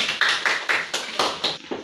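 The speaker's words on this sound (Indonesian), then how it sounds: "tepuk tangan untuk kelompok 1" Scattered classroom clapping for a student group after their presentation, a handful of sharp claps, fairly close and irregular.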